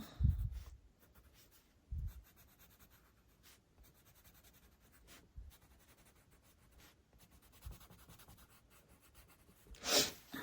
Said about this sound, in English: thicker, softer pencil and just kind of color these in with just graphite.